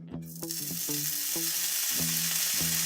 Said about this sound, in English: About to put the bacon on. Okay, my pan is heating up.